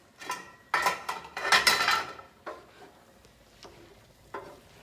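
Spoon scraping and clinking inside a pot as lamb stew with zucchini and eggplant is stirred, several close bursts of metallic stirring with light sizzle, then fainter scattered taps.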